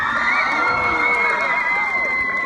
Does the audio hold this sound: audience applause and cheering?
yes